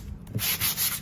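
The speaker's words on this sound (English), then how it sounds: "I have this little sanding block." Sandpaper wrapped around a small sanding block rubs back and forth over a lacquered office desk, giving a close, steady scratchy hiss in several short strokes.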